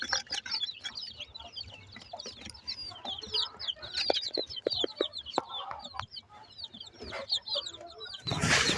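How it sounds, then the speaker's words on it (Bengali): Chicken chicks chirping, a busy flurry of high, thin peeping calls overlapping close by, with scattered small knocks and rustles and a burst of broadband noise at the end. "এই পাশে আরো কিছু মুরগির বাচ্চা আছে"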